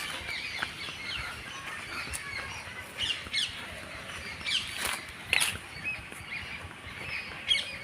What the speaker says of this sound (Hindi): चिड़ियों के चहचहाने की आवाज़ सुनिए।